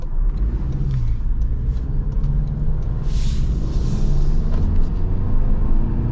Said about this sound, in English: I want to get like a big acceleration here